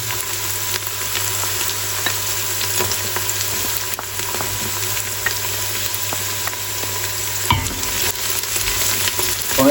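Garlic sizzles and fries in a pan with sweated onions over medium-high heat for chili con carne, a steady dense crackle with occasional stirring scrapes and clicks, close and continuous without talk.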